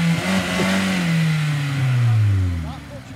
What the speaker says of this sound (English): Give us a rev then, Mike.